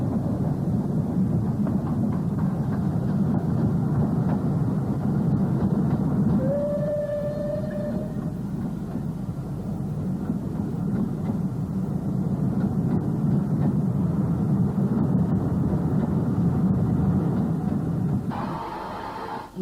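Great Western Hall class steam locomotive on archive film, a loud sustained rumble of the passing train with a brief whistle-like tone partway through and a short hiss near the end.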